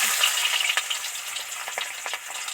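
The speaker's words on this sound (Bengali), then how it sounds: "এবার এর মধ্যে কুচনো পেঁয়াজটা উঠিয়ে দেব যে মোটা মোটা পেঁয়াজগুলো কুচিয়েছিলাম সেটাই দিয়ে দিচ্ছি" Coarsely chopped onions hit hot oil with bay leaf and chilli, giving a bright, continuous sizzle with scattered crackles and brief stirring sounds close by.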